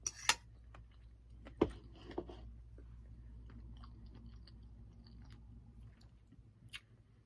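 Someone chews a mouthful of leftover garlic shrimp with rice and green beans, close and quiet, with soft wet munching and a few sharp utensil clinks against a dish.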